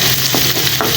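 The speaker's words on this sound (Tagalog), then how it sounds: "ginisa sa sariling mantika" Alamang shrimp paste sautéing in its own oil gives a steady, close hiss broken by a few soft stirring scrapes, with no voices.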